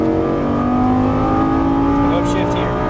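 A Lamborghini Gallardo LP550-2 accelerates hard down a straight, its engine a loud, sustained, steadily climbing drone heard from close by, with a voice briefly audible near the end.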